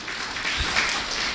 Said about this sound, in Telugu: గట్టిగా చప్పట్లు కొట్టండి రాజాకి ఒకసారి